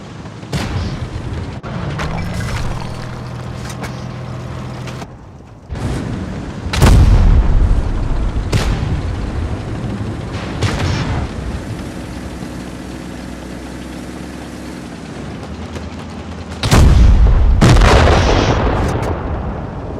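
A tank cannon fires in a tank battle video game with a steady engine idling beneath. Two heavy, loud booms ring out several seconds apart alongside a few sharper cracks.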